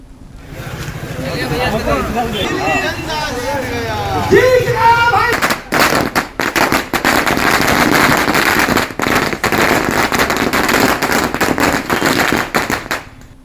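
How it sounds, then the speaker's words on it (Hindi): Rapid, loud bursts of firecrackers crackle and pop continuously after a voice speaks, the explosions dense and close, at a victory celebration fireworks display at Swami Vivekananda Chowk. "स्वामी विवेकानंद चौक पर जमकर आतिशबाजी हुई।"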